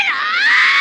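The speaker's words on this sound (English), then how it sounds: "this raw, guttural, piercing screech that only she could deliver" A woman's piercing, raw scream from the horror film The Evil Dead, a single loud sustained high shriek lasting under a second with no other sound.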